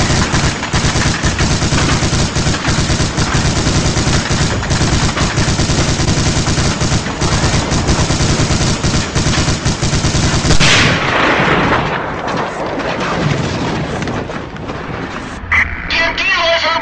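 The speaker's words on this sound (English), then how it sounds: "Two MG-42s, a central eight from that bunker!" War-film battle sound effects in a Lego film: dense, continuous MG-42 machine-gun bursts mixed with artillery booms play loud and relentless for about ten seconds, then thin out to scattered shots and rumbling.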